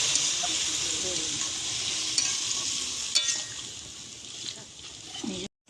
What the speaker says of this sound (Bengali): এবার জল ঢেলে দিচ্ছি আমরা